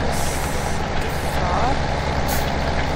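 A bus in the farming video game Landwirtschaftssimulator 17 runs with a steady, loud engine drone, and an air brake hisses in bursts over it. No voices are heard.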